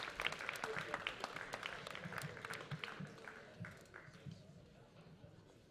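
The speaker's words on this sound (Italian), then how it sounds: "Un grande applauso!" Audience applause for a singer from Livorno, a steady crackle of clapping hands lasting throughout and slowly thinning toward the end, with a few voices mixed in.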